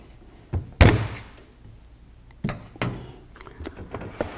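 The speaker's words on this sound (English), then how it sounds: "let's take the door off" Access door being removed from an Aprilaire 2200 whole-house humidifier: a loud plastic clunk near the start, followed by a few lighter knocks and rattles at close range, with no talking.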